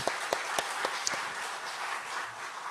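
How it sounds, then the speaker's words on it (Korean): A church congregation applauds at a service, a few sharp claps at first that blend into a steady, moderately faint patter of clapping. "여러분 우리 권사님들 위해서 박수 한번 보내주시기를 바랍니다"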